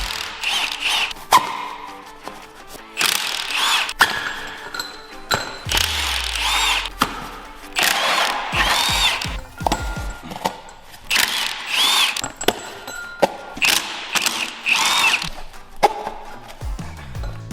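A power tool, likely an impact driver, removing gearbox bolts on a VW Fox, with repeated short bursts of rattling and whirring separated by brief pauses and the clink of metal parts.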